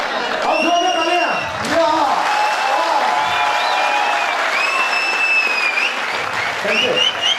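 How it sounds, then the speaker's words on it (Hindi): A live audience at a Mumbai business event applauds loudly, sustained clapping filling the room throughout while voices and other sounds ring over the top. "अब जोर से तालियां।"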